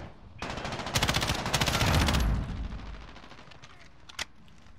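Gunfire from Call of Duty: Modern Warfare (2019) sounds as a loud automatic burst that speeds up, holds for about two seconds, then tapers off, followed by a single sharp shot.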